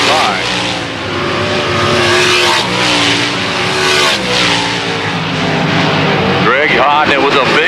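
Race cars roar around the track in a loud, continuous wash of engine noise, pitches rising and falling as cars pass, with an announcer's voice over the top.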